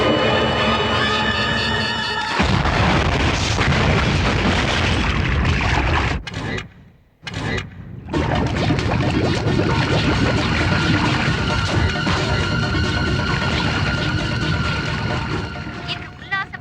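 A boat blows up from an exploding cooking gas cylinder as a film sound effect, giving a sustained loud roaring blast with a brief dip in the middle before the rumbling resumes.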